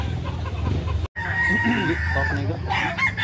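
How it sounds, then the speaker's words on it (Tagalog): A gamefowl rooster crows once, a clear drawn-out call, and clucks among other chickens in a busy farmyard setting with background chatter and noise. "Lain nga manok."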